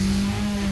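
Car engine revving in The Crew racing video game, a brief loud sustained engine roar with a steady low hum, close and alone without speech.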